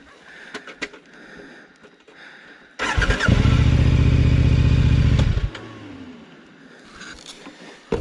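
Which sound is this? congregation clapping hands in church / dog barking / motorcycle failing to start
motorcycle failing to start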